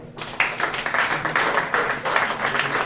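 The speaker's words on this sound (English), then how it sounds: "Clap it up if you're a couple." Couples in a comedy club audience clap together, a steady, moderate patter of many hands that starts abruptly and keeps going without talk over it.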